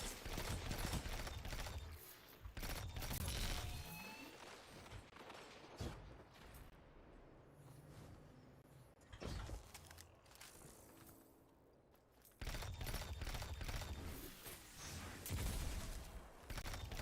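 Gunfire in a video game crackles in dense bursts at the start and again near the end, with scattered single shots and mechanical clatter in a quieter middle stretch.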